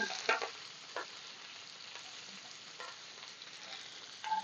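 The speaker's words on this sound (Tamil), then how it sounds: "அதனால் கொஞ்சம் கருவேப்பிலை போட்டுக்கோங்க" Curry leaves frying in hot oil give a soft, steady sizzle with a few brief crackles and light stirring taps, fairly faint and without speech.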